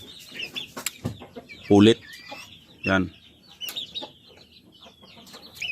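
A Koshamo stag rooster clucks in a few short, sharp bursts close by, with other birds chirping in the background and someone speaking briefly between the calls.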